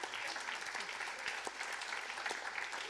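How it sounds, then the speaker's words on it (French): Audience applause at a talk on Europe's place in the world, a moderately distant, continuous patter of many hands clapping that holds at an even level. "Et vous êtes applaudi."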